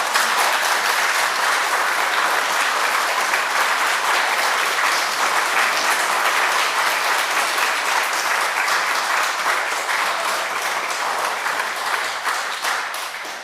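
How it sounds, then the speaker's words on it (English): A lecture audience greets a guest speaker with long, loud, sustained applause, a thick, continuous clatter of many hands that only begins to taper off in the final seconds. "thank you for the applause"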